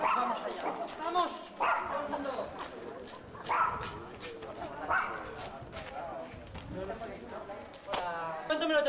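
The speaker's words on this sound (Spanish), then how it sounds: "Los perros jodidos." Dogs bark and yip repeatedly at an art exhibition opening in Oropesa, Toledo, mixed in among lively talking voices of a crowd, the barks fairly close and intermittent.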